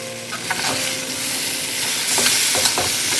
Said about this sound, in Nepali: अलिअलि चलाउँदै गर्नुपर्छ, नत्र डढ्छ।